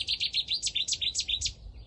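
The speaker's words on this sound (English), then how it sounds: "Chetty's warbler wanting to join in." A Cetti's warbler sings beside the Gloucester Ship Canal, a loud, close burst of rapid, explosive chirping notes repeated in quick rhythm over a low background rumble.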